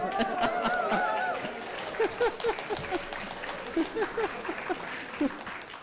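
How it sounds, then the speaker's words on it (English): Choir members at a rehearsal applaud a singer, a moderate round of clapping under cheering and excited talk, giving way to laughter and scattered voices as the clapping fades. "I have a big round of applause for Leon."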